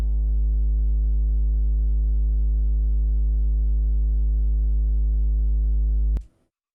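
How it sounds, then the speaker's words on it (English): Triangle-wave sub bass from the LittleBigPlanet music sequencer, a deep, fat sustained tone with faint upper overtones droning steadily for about six seconds, then ending with a short click. "if you go to triangle wave, you can have more of a fat sub bass, which sounds like this"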